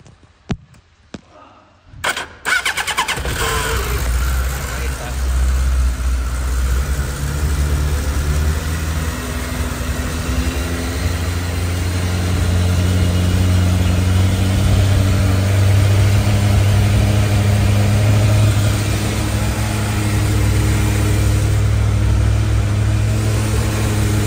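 A Suzuki GSX1100 motorcycle engine starts after a few cranking clicks and settles into a loud, close, steady idle that rises slightly later on, with no one speaking over it.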